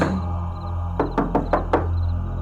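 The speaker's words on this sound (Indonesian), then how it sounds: "Lalu aku mengetuk pintunya." Five sharp knocks on a door in quick, fairly even succession, close and distinct over a low steady hum.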